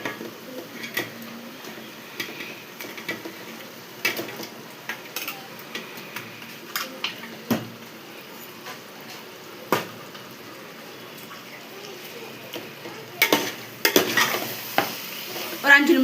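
Chicken, 1.25 kg for biryani, sautéing in a pan over onions: a soft, continuous sizzle broken by scattered scrapes and knocks of a spoon stirring against the pan, busier toward the end.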